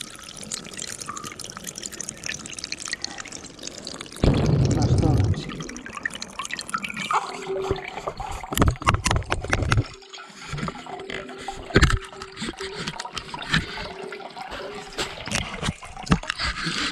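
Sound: water draining from central heating radiator

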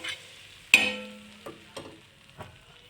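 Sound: pav buns toasting in butter on a pan

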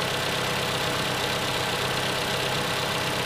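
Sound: 2014 Toyota Camry 2.5 liter engine idling

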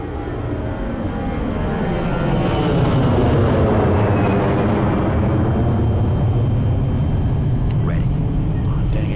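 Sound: drone aircraft engine in Ghost Recon Future Soldier video game

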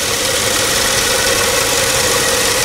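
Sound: car engine idling after helicoil spark plug thread repair

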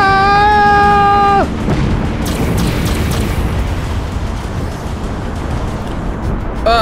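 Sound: missiles firing and exploding in Dreadnought video game

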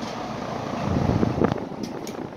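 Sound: electric fans blowing wind in Kmart fan display

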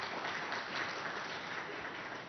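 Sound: audience applause for Maheshbhai

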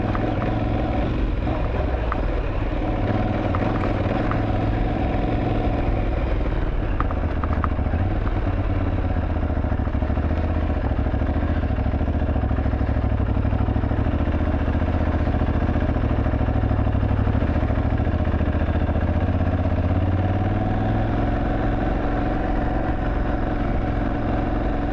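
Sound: enduro motorcycle engine riding

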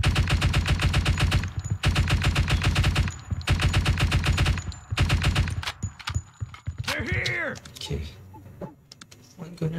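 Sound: machine gun fire in video game Door Kickers 2

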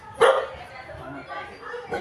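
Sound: street dogs barking

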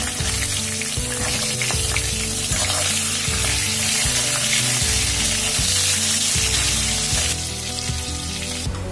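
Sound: fish frying in a pan

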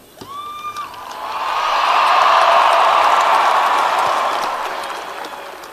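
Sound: audience applause at Alabama 2017 championship marker unveiling

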